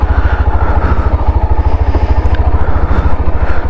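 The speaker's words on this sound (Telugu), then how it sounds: "బైక్ అయితే కనుక అసలు మూవ్ అవ్వట్లేదు, చాలా స్లోగా మూవ్ అవుతుంది" A Yezdi motorcycle with failed clutch plates labours up a hill road at Gudisa hill station, its loud single-cylinder engine thumping in a fast, even pulse close to the listener, with no talk.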